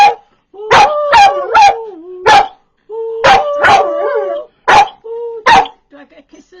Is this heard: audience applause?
no